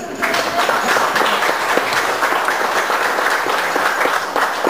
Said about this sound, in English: You should be applauded and thanked once again.